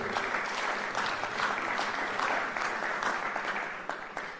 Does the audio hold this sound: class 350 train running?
no